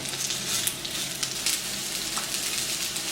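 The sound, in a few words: chicken nuggets frying in a pan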